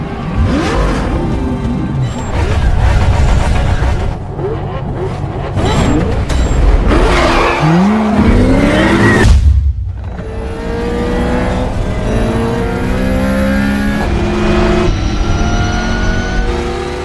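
Race cars roaring through a street race in the Need for Speed film, engines revving and whining loudly as cars accelerate and pass close by, with a brief gap before the engine drone resumes under music.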